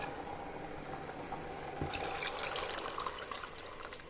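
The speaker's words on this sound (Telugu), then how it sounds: "చింతపండు రసం వేస్తున్నాను" Tamarind juice poured into a mini electric cooker making egg onion curry and pappu charu, a steady trickling, splashing pour that grows louder and busier partway through, close by with no talk.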